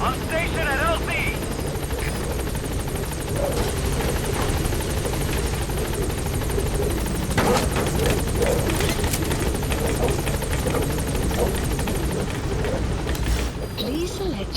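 Helicopter arriving at a landing zone in the game Metal Gear Solid V: The Phantom Pain, its loud steady rotor thrum and engine roar continuous throughout, with radio voices talking over it.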